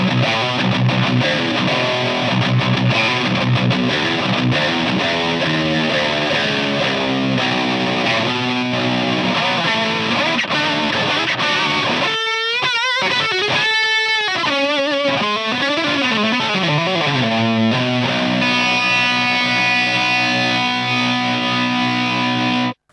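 Heavily distorted high-gain metal guitar through a Rand Trasher 4x12 cabinet impulse response with reverb, loud and continuous, with chugging riffs, a brief pause near the middle, then sustained chords ringing to the end.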